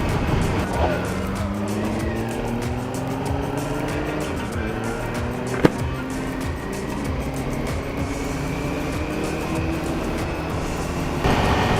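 Town traffic heard from a moving vehicle: steady engine and road rumble with shifting tones as cars pass nearby, plus one brief sharp knock partway through.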